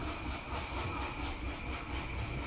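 Locomotive engine idling in the train simulator Derail Valley, a steady droning rumble with hiss and a faint rhythmic pulse, continuous and close.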